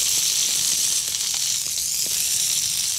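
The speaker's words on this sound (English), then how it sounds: "And then in there goes my onion and these beautiful red peppers." Sliced onion and red peppers frying in a hot pan give a steady bright sizzle and hiss with a few soft pops scattered through it.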